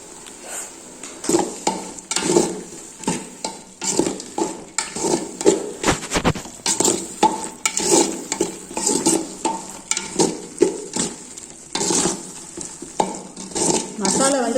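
Masala with chili powder for biryani fries in a pan while a spoon stirs it, so steady scraping and clinking sit over a soft sizzle, close by.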